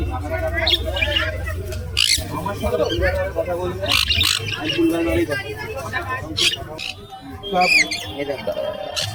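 Birds squawk and chirp at a busy pet bird market in Barrackpore, their calls scattered through a loud crowd babble with voices talking throughout.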